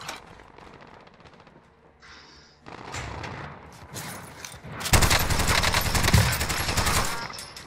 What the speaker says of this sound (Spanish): me está disparando el otro